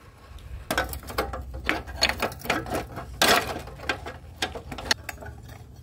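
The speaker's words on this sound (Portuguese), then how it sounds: "as quatro rodinhas aqui que eu tirei da máquina" Small wheels are worked free from a machine, giving irregular ratcheting clicks and short mechanical rattles, close up, some in quick bursts with pauses between.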